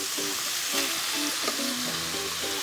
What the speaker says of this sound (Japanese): これを炒めていきながら